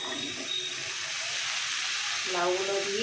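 Pieces of bottle gourd drop into hot oil for lau chingri, giving a steady broadband sizzle and hiss that swells slightly near the end as a faint tonal squeal rises under it.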